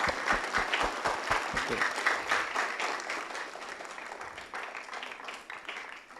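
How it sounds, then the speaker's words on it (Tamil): An audience at a church celebration claps together, a steady dense patter of applause that starts strong and slowly fades. "அனைவரும் கரங்களை தட்டி வாழ்த்துக்கள் சொல்லிக் கொள்வோம்."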